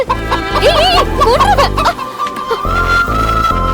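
Chicken clucking loudly and close in a Tamil film scene, a run of rising, squawking clucks over steady low background noise with a brief lull midway.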